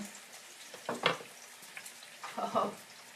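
Meatballs for Italian wedding soup browning in a pan, a soft, low sizzle with a few louder spatters and stirring scrapes, fairly faint and with no talking.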